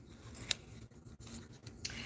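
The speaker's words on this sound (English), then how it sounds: "let me shuffle these cards" A deck of playing cards is shuffled close up, with soft brushing and a couple of sharp riffling snaps, alone and fairly quiet.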